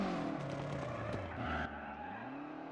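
Rally car tires squeal and skid under hard braking in WRC 9 on the snowy Monte Carlo 2020 stage, with a loud engine revving and dropping in pitch as the car slows, and no talking.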